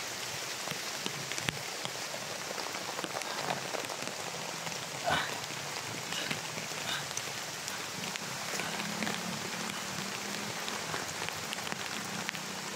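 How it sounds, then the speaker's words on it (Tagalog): Heavy rain pours onto an umbrella, a dense, continuous hiss of drops pattering close by with scattered louder taps, steady for the whole stretch and with no voices. "Basang-basa na ako sa ulan."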